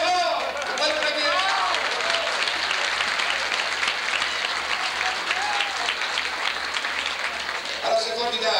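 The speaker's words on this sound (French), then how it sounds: "Bravo, on s'applaudit tous très fort." A crowd at the 1985 provincial snowmobile festival breaks into loud, sustained applause, dense clapping filling the air for several seconds, with voices mixed in at the start and end.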